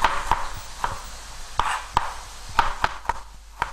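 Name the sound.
julienne cutting of ginger with a knife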